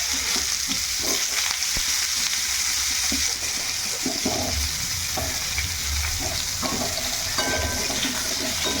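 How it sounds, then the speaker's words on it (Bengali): Potatoes fry in mustard oil in a wok, a steady close sizzle broken by repeated scraping and clattering stirs from a spatula against the pan. "এখন এই তেলের মধ্যে আলুগুলো দিয়ে দেবো।"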